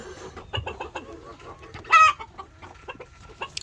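Chickens, including a rooster, clucking close by in short repeated bursts, with one sharper, louder squawk in the middle.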